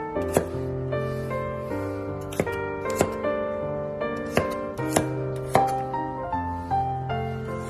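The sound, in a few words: chopping garlic into small pieces with a knife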